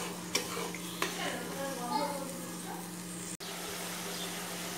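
Fish curry masala being stirred in a pan after a little water is added, a soft continuous wet bubbling and sizzle with a couple of light spoon taps early on, close and fairly quiet.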